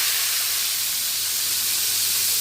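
Daing na bangus, dried milkfish, sizzles loudly in hot frying oil in a pan, a dense steady hiss that carries on evenly from start to finish, close up.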